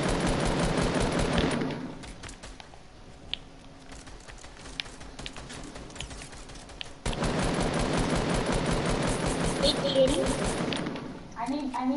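Rapid bursts of video game gunfire rattle in dense volleys at the start and again in the second half, with a quieter stretch between, while voices talk over the action.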